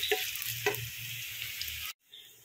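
Crushed garlic drops into hot oil in a pan and crackles with a close, busy sizzle, punctuated by a couple of stirring scrapes, before cutting off abruptly near the end.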